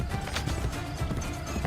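Rapid, steady clip-clop of horse hooves in the video game Assassin's Creed Brotherhood, with a faint mechanical clatter, continuous and fairly close, with no voices.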